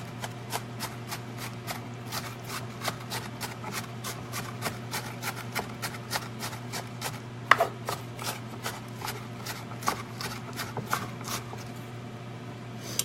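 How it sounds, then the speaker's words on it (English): Knife on a cutting board finely chopping red pepper for turkey chili: a steady, rapid run of sharp, evenly spaced taps lasting throughout, close and clear over a low hum, with no talking. "so chopping up red pepper. I like it really finely chopped"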